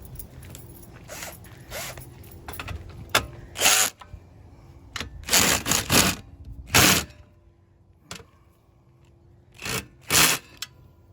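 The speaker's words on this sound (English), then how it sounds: "Finish tightening the top bolts" Metal ratcheting and scraping bursts from tightening the top bolts on a Toro Smart Stow Recycler mower, coming in irregular clusters of short, fairly loud clicks and rasps with quiet pauses between, close by.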